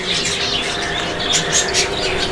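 Finches in a home breeding aviary that holds Gouldian, long-tailed, owl and Bengalese finches give a loud, continuous mass of overlapping chirps and squawks, with busy high calls throughout and no voices.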